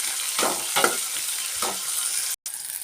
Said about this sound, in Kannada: ಈ ಉಳ್ಳಾಗಡ್ಡಿ ಸ್ವಲ್ಪ ಚಂದ ಗೋಲ್ಡನ್ ಕಲರ್ ಬಂದು ಹುರಿಬೇಕು